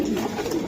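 A racing pigeon coos close by in a short, steady, soft burble with no other sounds.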